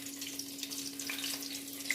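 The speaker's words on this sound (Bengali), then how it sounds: "তো দেখতে পাচ্ছেন আর দুটো পকোড়া আমি ভাজছি।" Stuffed whole-tomato pakoras coated in gram-flour batter frying in oil, a quiet, steady bubbling sizzle with a low hum underneath and a few faint pops.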